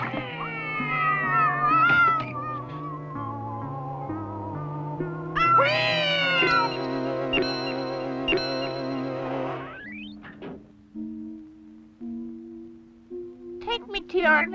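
A cartoon cat, the amazing Cosmic Cat from the Dr. Snuggles series, meows in a long stretched, pitch-bending call riding over a busy orchestral score, followed by a few shorter calls near the end.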